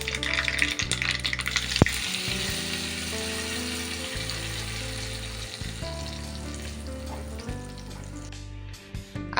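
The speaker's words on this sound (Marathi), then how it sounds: "आता आपण तेल गरम झाल्यावर त्यात टाकून राई व्यवस्थित तडतडायला द्यायची आहे" Mustard seeds crackle and sizzle in hot oil for a chutney tempering, a steady dense frying hiss running throughout with scattered sharp pops, fairly close and loud, while low tonal music hums underneath.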